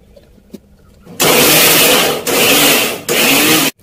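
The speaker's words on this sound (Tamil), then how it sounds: "சோ இது மிக்சில போட்டு அரைச்சு எடுத்துக்கலாம்." Jackfruit grinds in an electric mixer grinder: three loud, close whirring bursts with short pauses between them, following a near-silent start.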